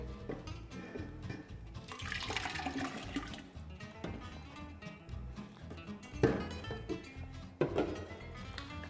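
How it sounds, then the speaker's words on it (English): Canned tomatoes poured slowly into a pan of hot olive oil, onions and garlic for a homemade sauce: a steady wet splashing and pouring rush that swells and fades over several seconds, with a couple of sharper splashes near the end. "We're going to slowly add in our tomatoes."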